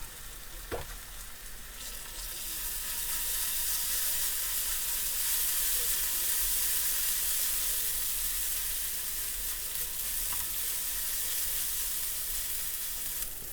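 Garlic and ginger paste sizzles steadily in a hot pan for a chicken karahi, a loud, continuous frying hiss with a brief stirring clatter near the start and again later.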